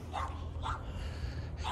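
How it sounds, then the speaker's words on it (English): A dog barks in snow at Big Bear, three or four sharp, fairly distant barks spaced evenly over a low background rumble. "You see that dog barking at me?"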